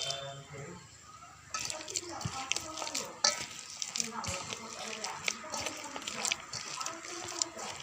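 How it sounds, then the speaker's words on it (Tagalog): Tap water runs steadily while hands are washed under it in a home kitchen during snack preparation, with splashing and rubbing sounds at moderate distance and faint speech in the background. "Hugas na lang, marami ng tubig."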